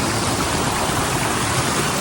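Steady, close rush of a waterfall and flowing stream in a Blue Mountains valley, a dense continuous roar with no voices over it.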